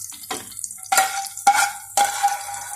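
Peas frying in a frying pan, stirred in short bursts: three or four sharp sizzling scrapes roughly half a second apart, close and loud, with no talk.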